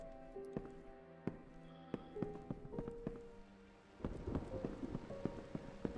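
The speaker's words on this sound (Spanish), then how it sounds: "Está lloviendo, ¿eh?" Rain pattering steadily in the horror video game Evil Inside, with scattered droplet taps over a low tonal backdrop, growing slightly denser partway through.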